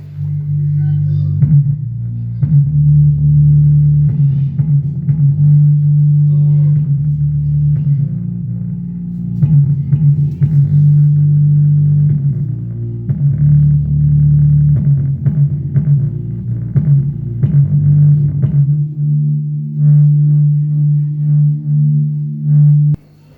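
A deep, steady bass-frequency tone hums loudly through a home theatre speaker, holding nearly constant with brief dips, then dropping away near the end.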